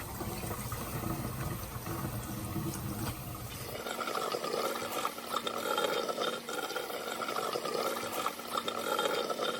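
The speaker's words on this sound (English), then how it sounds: "I'm going to take the wig out and rinse it." Cold tap water runs steadily over a blonde synthetic wig being rinsed of toner, a continuous splashing wash that shifts partway through as the flow changes, fairly close and alone.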